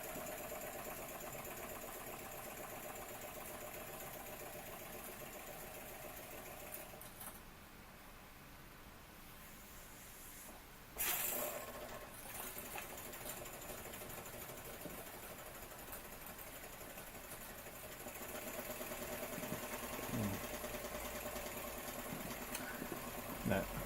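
A Jensen 75 model steam engine runs with a quiet, steady mechanical whir and rhythmic chuffing, broken briefly by a sharp knock midway, heard faintly throughout.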